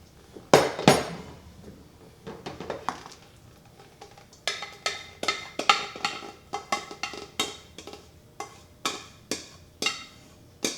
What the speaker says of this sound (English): I'm gonna put it in a bowl before I mix the rest of the ingredients